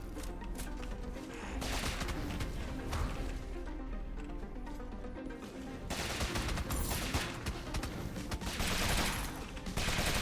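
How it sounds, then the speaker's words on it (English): A wizard's fire-starting gun in the video game Rogue Legacy 2 fires as dense, continuous bursts of crackling shots in two loud waves over busy game music and effects. "I just set them on fire with my gun."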